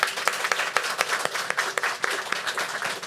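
Audience applause for a group of principals at a school board meeting, a short round of scattered, fairly sparse clapping from a modest crowd.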